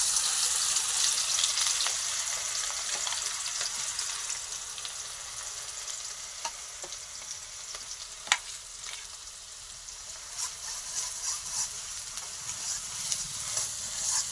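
Onion is stirred slowly in a pan over low heat, a soft steady sizzle with occasional light scrapes and clicks of the spoon, close and fairly quiet throughout.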